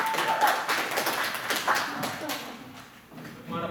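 A convention game-show audience applauds a contestant, a dense wash of clapping that swells early, then thins and fades, with voices murmuring underneath.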